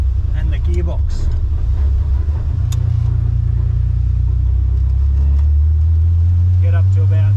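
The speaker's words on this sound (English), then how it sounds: "most of what you can hear here in the cabin is not the exhaust, it's the engine noise through the firewall" Engine noise comes through the firewall into the cabin of a moving car as a loud, steady low drone, with someone talking over it throughout.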